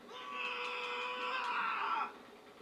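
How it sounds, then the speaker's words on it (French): Screaming from a Spider-Man video game, a sustained, piercing cry lasting about two seconds at moderate loudness, then cutting off to quiet background. "C'est horrible avec ces cris là en plus."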